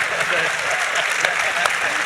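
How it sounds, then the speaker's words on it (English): An audience at a film festival directors' panel claps loudly and continuously, a dense wall of many hands with occasional sharper claps standing out. "I love that everyone's clapping for"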